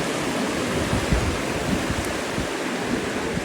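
Waterfall pouring steadily outdoors, a constant broadband rush with low rumbling, close and fairly loud without any talk.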